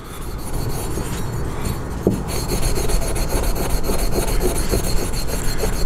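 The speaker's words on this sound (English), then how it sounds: "just use WD-40 and some steel wool. Takes it right off." Steel wool soaked in WD-40 scrubs rust off a steel firearm magazine, a close, continuous gritty rubbing in quick back-and-forth strokes with no voices.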